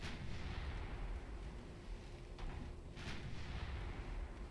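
Naval guns fire from warships in the video game Ultimate Admiral Dreadnoughts, with a few muffled booming shots rolling over a dense, rumbling battle backdrop at moderate level.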